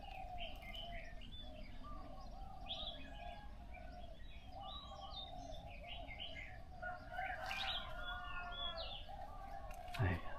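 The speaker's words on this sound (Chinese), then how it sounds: "这些鸟叫啊，这些声音是很舒服的。" Birds call and chirp on a countryside morning near Chiang Mai, Thailand, with many overlapping tweets and coos from several directions over a steady outdoor hush.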